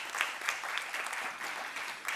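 Clapping crowd welcomes a guest at a Delhi Tamil Sangam gathering for World Thirukkural Day, a continuous moderately distant patter of applause with no talk.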